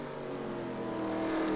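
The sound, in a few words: race car driving down the back stretch at Martinsville, sim racing game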